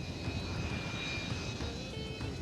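A Harrier jump jet roars overhead in a steady, loud engine drone with a thin high whine running through it, continuous and unbroken with no voices.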